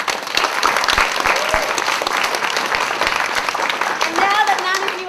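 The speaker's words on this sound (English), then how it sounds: "give yourselves a big round of applause" Sustained applause from a theatre audience at a young people's showcase by a theatre and film school, steady dense clapping throughout, with a voice speaking faintly over it near the end.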